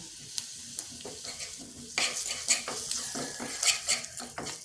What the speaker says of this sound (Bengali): এখানে তড়কা বানাচ্ছি, দিয়ে দিচ্ছি 1 চামচ তেল আর ভাজা জিরের গুঁড়ো আর দিচ্ছি লঙ্কার গুঁড়ো